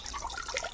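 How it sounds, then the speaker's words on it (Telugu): Water splashes and trickles over freshly harvested taro roots as they are rinsed. The pour is brief and fairly steady, close up, with no talking. "మళ్ళీ వేస్తాను నీళ్ళు"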